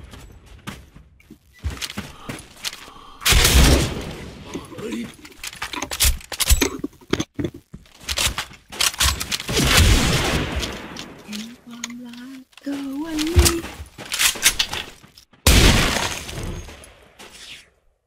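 Machine gun fire and explosions in the online shooter Special Force 2, with loud bursts and blasts recurring throughout amid clattering game effects, while a player talks over the action.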